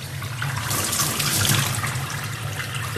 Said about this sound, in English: Look at me, I'm taking a shower.